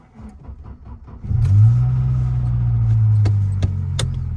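A 1992 Saab 900i five-door with a five-speed manual starts up on a cold day, its engine catching after a brief crank and settling into a steady, loud mid-pitched idle hum with a few faint clicks over it.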